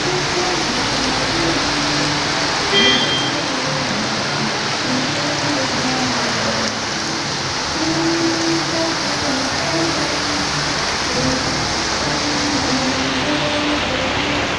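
Heavy rain hisses steadily on a road near Srisailam Dam while cars pass through it, their low tyre and engine rumble swelling faintly beneath the continuous downpour.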